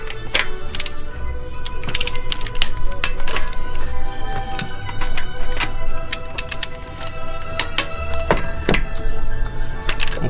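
A torque wrench tightens LS2 cylinder head bolts on a 20 foot-pound pass, making a series of sharp metallic ratchet clicks in irregular bursts close by.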